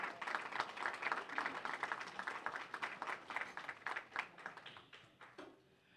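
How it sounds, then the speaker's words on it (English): An audience at a history center presentation applauds for several seconds, a steady patter of many hands clapping that thins out and fades near the end. "if we can get a round of applause for Michael"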